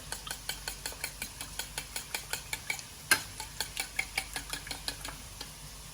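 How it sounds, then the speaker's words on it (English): A fork taps briskly against a bowl in a quick, even rhythm, beating cream with egg yolks; the clinks are close, fairly quiet and carry on for several seconds with no talking. "the cream goes in with the egg yolks, and with a fork you beat those around together"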